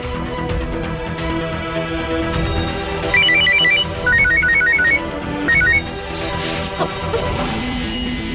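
A mobile phone's ringtone plays unanswered, a loud, near melodic tune in repeated short phrases over background music, with a sharp crash-like hit partway through and nobody speaking.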